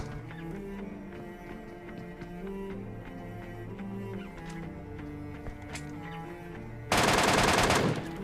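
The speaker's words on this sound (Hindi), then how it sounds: "उधर से उसके ऊपर फायरिंग होती है" Gunfire in PUBG Mobile: after a stretch of quiet background game sounds, a loud, dense burst of automatic fire erupts near the end and lasts under a second, with no voices.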